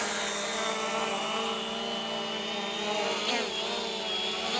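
A Bugs 2 B2C GPS quadcopter drone hovers with a steady, high, whining buzz of spinning propellers. The sound stays loud and constant, dipping slightly in pitch for a moment partway through, and no one talks.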